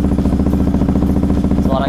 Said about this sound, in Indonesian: Ini untuk suara idle-nya seperti ini.